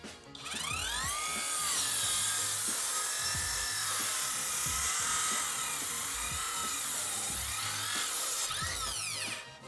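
A cordless circular saw with a 60-tooth, 185 mm blade cuts through a wooden board beside a nail, one continuous loud whining cut with a rising start and winding down at the end, no talking.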